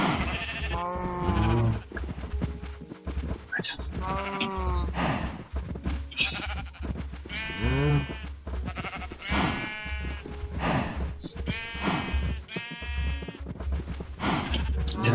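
A small flock of sheep in a farming video game bleats over and over, loud overlapping wavering calls in quick succession, close by above a low rumbling hum.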